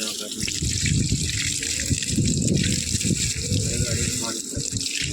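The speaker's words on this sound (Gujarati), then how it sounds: "આપણે અત્યારે પાણી છટવાનું ચાલુ છે" Water sprays from a pipe over a vehicle outdoors in cold weather, making a loud, continuous gushing splash with surging bursts. Voices can be heard faintly in the background.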